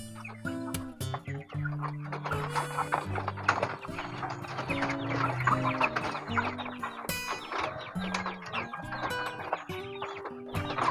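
On a small farm, unvaccinated chickens kept on papaya-leaf greens cluck and squawk close by, with repeated overlapping calls and sharp clicking or rattling noises mixed in.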